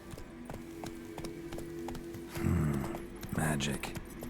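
Roach, a horse in a video game, gallops with steady regular hoof clip-clops running through the whole stretch, briefly swelling louder near the middle under a rush of ambient game sound.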